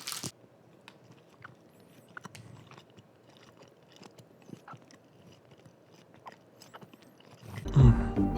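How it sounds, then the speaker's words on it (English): A still-wrapped piece of chocolate is unwrapped and eaten, heard as scattered soft crinkles and chewing clicks, ending in a burst of loud close rustling. "this piece of chocolate fell on the floor, but it's still wrapped, so I can just eat it"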